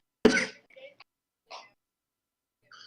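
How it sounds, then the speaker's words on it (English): A person gives a single sharp cough, like a throat clearing, up close, followed by a few faint breaths and small mouth sounds in a quiet room. "I was coughing."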